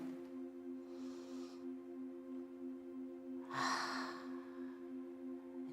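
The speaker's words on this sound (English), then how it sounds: "Take a deep breath in through your nose, slowly out through your mouth." During a relaxation exercise, two slow breaths sound over a steady low hum: a soft inhale through the nose, then a louder, breathy exhale through the mouth, close and unhurried.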